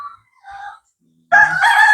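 A rooster crows once, loud and close, after a couple of soft clucks and a moment of quiet, in Jaffna, Sri Lanka.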